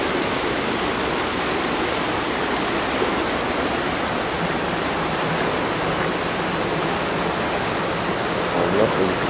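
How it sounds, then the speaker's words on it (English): Stormwater pouring in off the street into a storm drain, a steady loud rushing and splashing of water that continues without a break. "Here's where the water's pouring in off the street."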